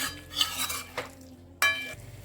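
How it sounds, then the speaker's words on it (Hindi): Potatoes stirred in a pan with cumin powder and spices, a spoon scraping and clinking against the metal in a few short close strokes, with a faint sizzle underneath. "थोड़ा सा जीरा पाउडर ऐड करेंगे और इन सबको अच्छे से मिक्स कर लेते हैं।"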